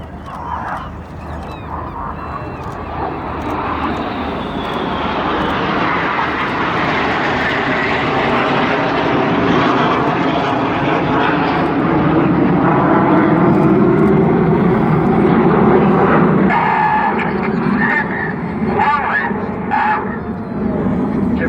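Red Arrows display jets roar through a corkscrew manoeuvre at the Sunderland International Airshow, a loud sustained engine rush building and holding for about twenty seconds with faint crowd and commentary underneath.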